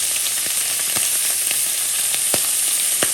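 Onions sizzle in butter in a pan, a dense, steady frying hiss sprinkled with quick crackles and small pops, close and fairly loud with no talking.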